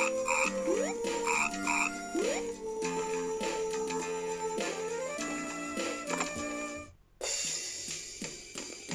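Frogs croaking in the video game Mother 3, a rhythmic run of repeated chirpy croaks over layered game music, bright and steady throughout with a brief dip near the end.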